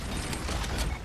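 Engineer's sentry gun being assembled in Deep Rock Galactic, a short, dense burst of mechanical ratcheting and clanking gears, loud and close throughout.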